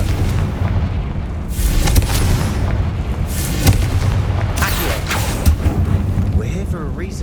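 Booming spell explosions and battle effects from the Hogwarts Legacy video game rumble loudly and continuously, with several heavier blasts, over a dense low-end roar.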